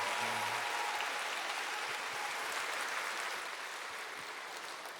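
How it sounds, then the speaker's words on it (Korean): A church congregation applauds the children during a Sunday worship service: a full, steady wash of many hands clapping together that slowly fades toward the end. "어린 아이들에게 큰 응원의 박수를"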